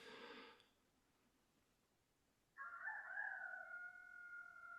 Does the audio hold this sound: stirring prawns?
no